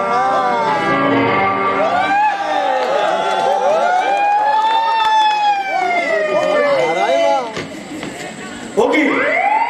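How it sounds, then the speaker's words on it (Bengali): A police car siren wails loudly and close by in a long rising and falling sweep, with voices and crowd noise underneath and a sharp new siren rise near the end. "ওকে বাড়ি তো পুলিশের গাড়ি আমার মনে হচ্ছে"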